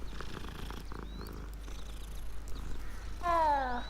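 A cat in Hogwarts Legacy purrs softly in a low, continuous rumble, then lets out a short, clear meow near the end; quiet and close.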